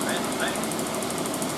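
Washing machine spinning up toward 800 RPM, a steady loud mechanical drone with a rapid rhythmic pulsing and rattling throughout, close and continuous.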